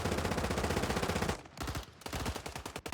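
Rapid automatic gunfire in a video game, sustained loud rattling bursts for over a second, then a brief pause before further sharp volleys of shots.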